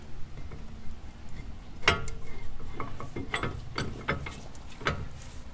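Akebono brake pads sliding into place on the front caliper of a Volvo 850, heard as close metallic clicks, scrapes and small clunks in an irregular rhythm over a steady low background hum.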